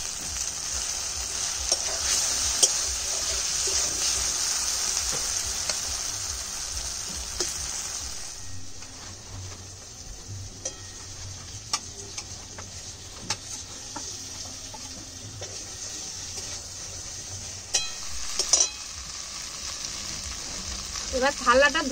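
Tangra and khoyra fish fry and sizzle loudly in a pan with melted tomato. The sizzle settles into quieter bubbling, and scattered clinks and splashes of water follow near the end.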